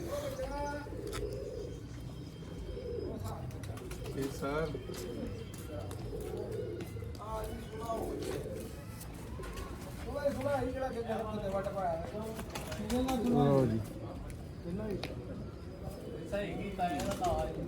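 Sialkoti black-faced pigeons from a rooftop loft coo in repeated rolling phrases close by, overlapping with chirps and someone talking over them through most of the stretch.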